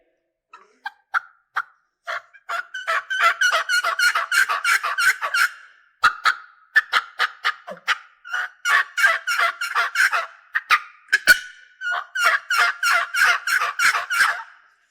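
An aluminum-lidded turkey call with a slightly high tone imitating hens, close and loud, with bursts of rapid yelps and clucks in repeated runs separated by short pauses.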